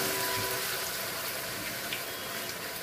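Soybean chunks sizzling as they fry in hot oil on a home stove, a steady broadband hiss and crackle that holds evenly throughout without pause.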